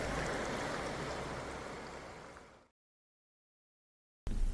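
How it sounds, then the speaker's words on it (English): A babbling brook on a mountain campsite at night sends up a steady rushing, gurgling flow that fades out, leaves a stretch of silence, then cuts back in. "Listening to that babbling brook, man, I was going to sleep pretty hard tonight."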